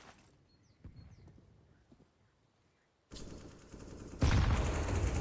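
Grenades bursting during a Counter-Strike match on the Inferno map, video game audio: quiet ambience breaks into a sudden loud, dense crackling burst that swells even louder toward the end.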